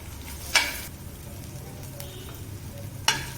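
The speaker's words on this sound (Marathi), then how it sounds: "मोहरी टाकून घेतली अगोदर आता जिरे टाकले तर त्यामध्ये कांदा परतून घेऊया" Onion sautés in oil with mustard seeds and cumin, giving a soft, steady sizzle with two sharp clinks of a spoon against the pan.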